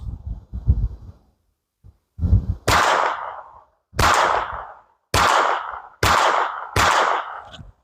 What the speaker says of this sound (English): And rapid fire it is.